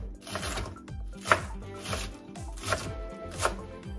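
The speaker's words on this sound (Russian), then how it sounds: "Его мы нарезаем меленько." A knife chops rapidly and steadily on a cutting board, finely slicing green onion, with a dense run of short crisp strikes and a few louder accents.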